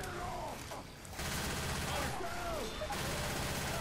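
Dense automatic gunfire in Left 4 Dead 2 rattles continuously amid chaotic game noise, with frantic voices talking over the shooting.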